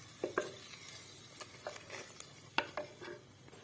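Ghee goes into a hot tadka for desi kadhi, giving soft crackling sizzle and a few sharp spoon clinks against the pan, quiet and close, with no talk.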